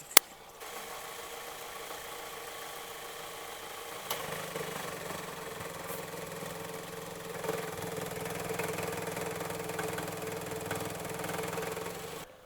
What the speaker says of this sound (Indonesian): Jadi kalau AC nyala atau ada beban di mesin kayak gue masukin persneling gede, itu ada suara kerotok kerotok kerotok kerotok kerotok.